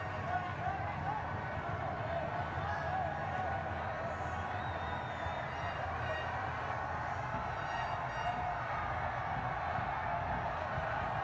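A large crowd at Prince Stadium during a SEA Games 2023 men's football match between Vietnam and Thailand gives a steady, distant roar that never lets up.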